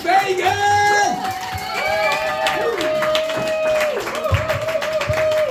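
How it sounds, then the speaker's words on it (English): Audience at a comedy night clapping and cheering as a comedian is brought on stage, a dense continuous wash of applause with whoops, while a loud tonal musical sting plays over it. "start clapping, start cheering, and start making all the noise you can for the wonderful Guy Fagan"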